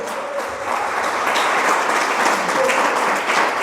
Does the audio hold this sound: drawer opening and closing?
no